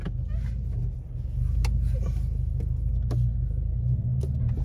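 A car drives on snowy mountain roads around Big Bear, California, a loud steady low engine and road rumble from inside the cabin with a few faint clicks.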